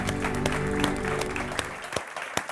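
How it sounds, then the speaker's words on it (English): Applause for the winning team at a university challenge grand finale, a dense wash of clapping that carries steadily and then thins into a few scattered claps toward the end. "again an applause"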